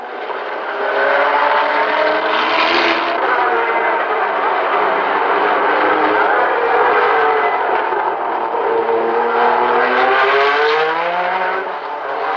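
Race cars lapping at the 1960 Le Mans 24 Hours, heard as a loud, continuous engine drone. The pitch swells and falls as cars pass one after another, with no talk.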